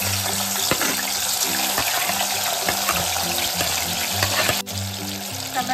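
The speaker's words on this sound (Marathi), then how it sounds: "आता याच्यामध्ये ना आपण बारीक चिरलेला टोमॅटो टाकायचा आहे।" Finely chopped tomatoes hit plenty of hot oil in a pan for a tarli (sardine) fish gravy, giving a loud, steady sizzle broken by scattered stirring clicks, with a brief dip in intensity near the end.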